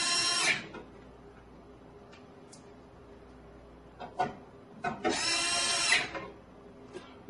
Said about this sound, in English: To mount these using the two supplied screws.